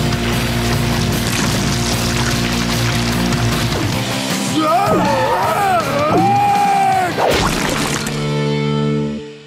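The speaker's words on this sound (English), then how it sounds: "The cement is mixed and ready to pour!" Cartoon sound effect of cement pouring: a loud, sustained gushing wash with wobbling, sliding tones in the middle, set against busy music and crowd noise before ending abruptly.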